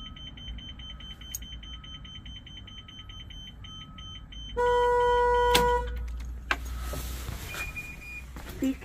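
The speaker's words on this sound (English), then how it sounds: "So now I turn off the key, let it honk." A car horn sounds in short blasts during a Child Check-Mate system test, with a beeping alarm tone running before it and some clicks and rustling after.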